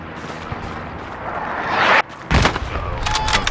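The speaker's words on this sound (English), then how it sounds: "That's the artillery" Artillery fire in the World War II shooter game Hell Let Loose: a broad rumbling wash swells, cuts off abruptly, then a heavy blast bursts in and trails off into dense crackling noise.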